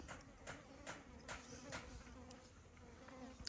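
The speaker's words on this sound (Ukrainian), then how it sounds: "Комарики вже." Small insects, likely mosquitoes, whine steadily around a peach orchard at close range, with faint rhythmic rustling underneath and no talk.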